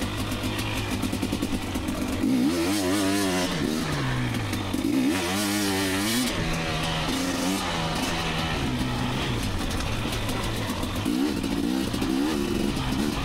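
A 2019 KTM 250XC two-stroke dirt bike ridden on wet, rainy trails, its engine buzzing steadily throughout with repeated rising revs and throttle blips, close and loud with no talk.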